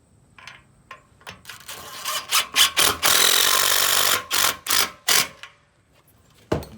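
A power tool drives a screw through a wall-mount post bracket into a wooden post, a run of short, loud bursts and one sustained whine, close by with no talking.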